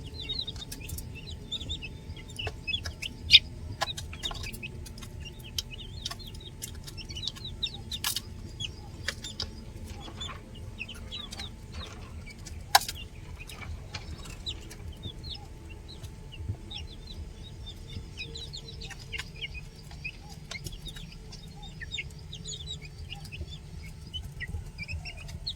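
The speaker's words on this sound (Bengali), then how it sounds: "কত ছোট ছোট মুরগিগুলো কিনেছিলাম," Small backyard chickens, bought as chicks and now grown, cluck and call intermittently over a low steady hum, with occasional sharp clicks and knocks nearby.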